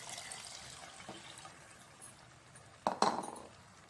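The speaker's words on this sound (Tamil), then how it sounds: "சேர்த்துக்கிறேன், தண்ணி சேர்த்துக்கிறேன்." Mutton cooking water pours into a pot for biryani in a short, splashy burst near the end, after a few seconds of quiet kitchen background.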